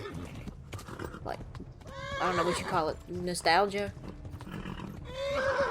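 A horse neighs and whinnies in the medieval game Kingdom Come: Deliverance, several loud wavering calls over hoof clip-clop and background game ambience, while someone talks throughout.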